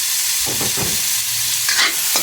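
Tomatoes added to hot oil sizzle steadily in a pan, with a broad hiss throughout and a few scraping stirs of a utensil against the pan, close and fairly loud, no talking.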